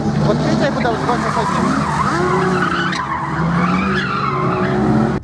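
Cars skid with squealing tyres and revving engines at a Ukrainian auto slalom cup final on a street course, loud and close, with people talking over the noise.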